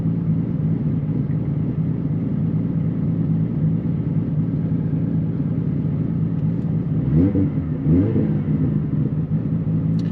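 A Nissan Skyline R32 GTR engine hums at a steady, fairly loud level with a low rumble, then gives two short revving surges near the end, with no talking.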